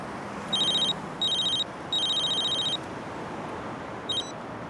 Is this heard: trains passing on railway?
no